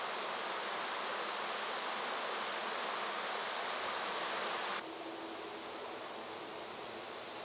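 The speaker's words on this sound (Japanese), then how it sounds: "木漏れ日の中で心地よい響きを立てる赤い川" Steady rushing water of a river flowing through forest near Akaigawa Station, Hokkaido, without pause, a broad even wash of sound with a slight shift in tone partway through.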